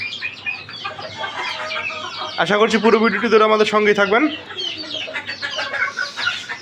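Newly bought backyard hens, including Silky chickens, cluck and squawk nearby in a lively, busy stream while someone talks over them.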